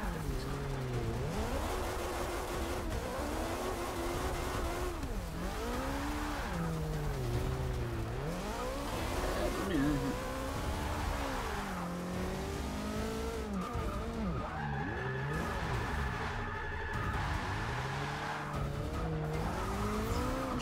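In the racing game Forza Motorsport 6, a race car's engine swoops up and down as tires squeal and skid repeatedly, loud and continuous over about twenty seconds.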